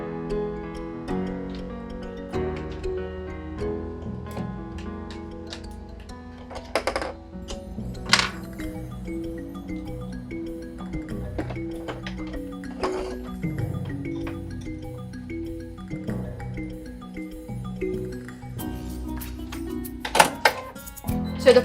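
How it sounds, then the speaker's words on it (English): An embroidery machine runs steadily while stitching antenna details before an applique design, giving a rapid mechanical ticking and clacking throughout with a few sharper knocks, close and fairly loud, with no talk. "I have the design loaded, and it's actually stitching the antennas right now"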